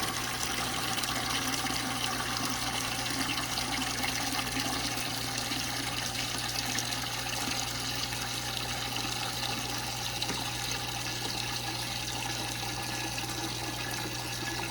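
A cheap aquarium water change pump fills two 5-gallon buckets, giving a steady, loud, continuous rush of pouring water with a low motor hum underneath, unbroken throughout with no talking.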